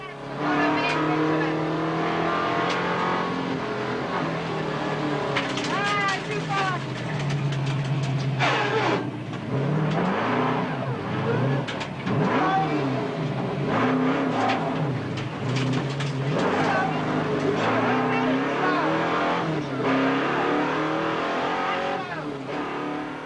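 Rally cars in the 1992 Targa Tasmania, among them a V8 MG, race past with loud, continuous engine roar and rising revs, overlaid by a narrator speaking throughout.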